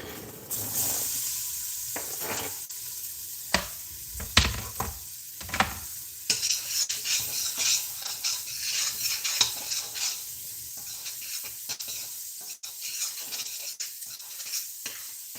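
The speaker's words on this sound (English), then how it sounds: "Time to add the onion." Onion added to hot, fragrant oil in a pan sizzles loudly while a utensil stirs and scrapes, with bursts of scraping early and a steady close frying hiss after.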